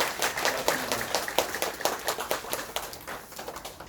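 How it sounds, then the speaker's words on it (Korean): A church congregation at a Korean Sunday worship service claps in welcome, a dense patter of many hands that holds steady for a few seconds and then thins out toward the end. "환영의 박수 하도록 하겠습니다"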